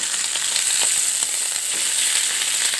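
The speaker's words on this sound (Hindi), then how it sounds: "चारों पीसेस हम इसी तरह से शैलो फ्राई कर" Marinated chicken pieces shallow frying in oil, a dense, bright, continuous sizzle heard up close and fairly loud, with faint crackles pulsing through it.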